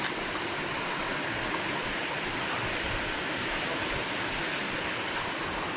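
Waterfall at Bukit Perangin in Changloon, Kedah: a steady, loud, broadband roar of falling water fills the whole stretch without break, close and continuous, with no voices.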